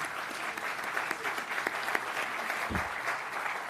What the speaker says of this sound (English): So can we applaud all of you?